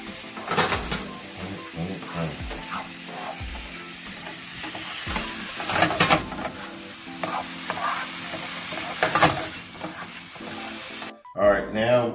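Black-eyed pea mixture for a vegan dish sizzles steadily in a pan while a utensil stirs and scrapes through it in repeated strokes, fairly close and loud, with a brief voice at the very end.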